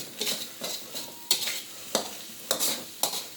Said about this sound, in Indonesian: Kita tumis lagi sebentar saja.